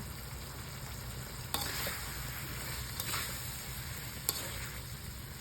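Sweet and spicy chicken wings frying in hot oil with a steady close sizzle, while a utensil stirring the pan gives three sharp clacks against the metal. No one speaks.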